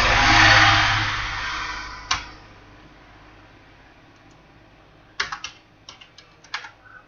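Keys tap on a computer keyboard as a date of birth is entered on an SSC GD exam admit card site. A loud rushing burst opens the clip, then a single click, then a quick run of close taps. No one speaks.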